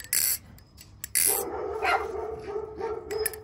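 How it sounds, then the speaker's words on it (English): Several dogs bark in the background in short, sharp bursts, mixed with excited yips and whimpers, fairly quiet and somewhat distant. "I'm just gonna pretend like there's not dogs going crazy in the background"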